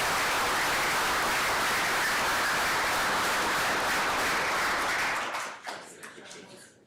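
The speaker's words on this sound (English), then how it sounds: "So one more big round of applause." A board meeting room fills with dense, sustained applause for volunteers, loud and continuous for several seconds before it thins out into a few scattered claps.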